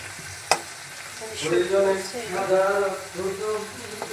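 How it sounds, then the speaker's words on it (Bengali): Dried fish and potato stir-fried (bhuna) in a pan, with a sharp clink near the start, then steady sizzling and scraping of stirring that swells and continues close up. "এখানে আমি আলুটা শুটকিটা ভুনা করছি"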